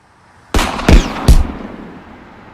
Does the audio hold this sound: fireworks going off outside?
yes